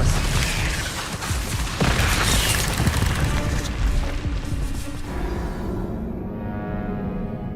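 A spell cast in the video game Hogwarts Legacy lands with heavy booming impacts and crashing bursts during combat, loud and dense at first, then thinning to a fading rumble.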